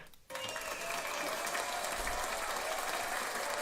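An audience at a live show breaks into clapping after a short pause. The applause stays loud and steady and fills the room.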